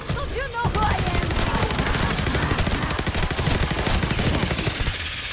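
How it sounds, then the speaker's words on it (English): Rapid automatic gunfire from a gun in Call of Duty Vanguard Zombies, a dense stream of shots that keeps up for several seconds, with a brief chirping effect just before it starts. "This gun is very, very fun to use."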